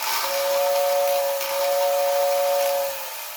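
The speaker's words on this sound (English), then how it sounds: "That whistle will blow off." Whistle in the coal tender of a pre-war Lionel 1668 toy train, blowing as a steady, thin, high steam-whistle tone for nearly three seconds over a constant airy hiss, close and moderately loud, then cutting off.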